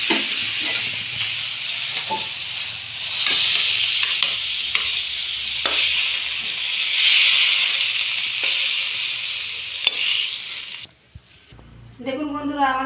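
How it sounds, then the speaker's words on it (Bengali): Ash gourd curry with coconut sizzling and hissing steadily in a pan while a spoon scrapes and stirs in repeated strokes, ending abruptly with a short burst of someone talking. "এখন আমি একটু নাড়িয়ে দেবো।"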